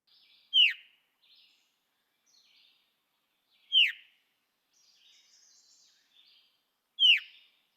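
Three clear, downslurred Veery call notes spaced evenly about three seconds apart, each short and slightly raspy, with faint softer chirps between in an otherwise quiet setting.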